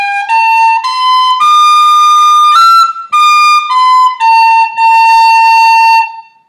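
A tin whistle plays phrase 4 of the Irish tune Scatter the Mud, a clear, bright run of sustained and stepping notes with brief breaks between them, close and loud, with no talking.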